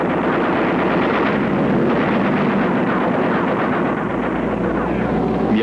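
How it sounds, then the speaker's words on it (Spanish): Dense, continuous gunfire rattles at close range in a wartime air battle during a bombing raid over Germany, a loud unbroken roar of shots mixed with engine and wind noise. "Disparo al avión a muy corta distancia."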